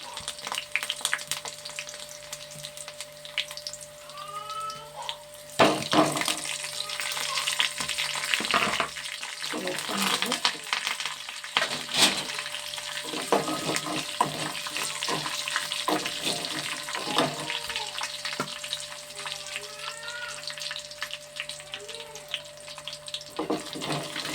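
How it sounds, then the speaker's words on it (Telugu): Curry leaves, cumin and mustard seeds sizzle and crackle in hot oil in a home kitchen, a steady frying hiss with scattered pops, stirring clatters and brief splashes of running tap water, no talking. "కరివేపాకు, జీలకర్ర అండి, ఆవాలు వేసుకున్నాను."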